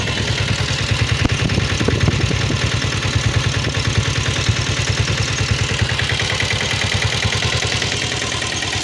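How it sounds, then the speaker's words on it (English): A Royal Enfield Bullet diesel motorcycle engine idles close by with a fast, even chugging pulse and rattly clatter, steady throughout. "I find more engine sound from the engine, less engine sound from the exhaust"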